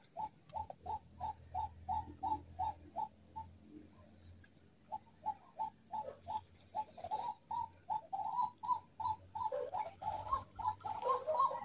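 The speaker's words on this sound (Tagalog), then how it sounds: "May ibon na tumutunog." A bird calls over and over in a steady series of short, even notes, like a dove or pigeon cooing, carrying on for several seconds with a brief pause midway. A faint insect hum runs underneath and no one speaks.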